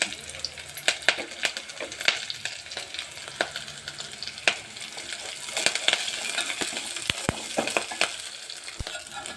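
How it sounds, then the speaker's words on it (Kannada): Curry leaves frying in a pan with cumin and fenugreek for urad dal chutney, a steady crackling sizzle broken by frequent sharp clinks and scrapes of a stirring ladle, close and fairly loud, no talking. "ಕರಿಬೇವು ಸೊಪ್ಪು ಹಾಕಿ ಚೆನ್ನಾಗಿ ಫ್ರೈ ಮಾಡ್ಕೋಬೇಕು"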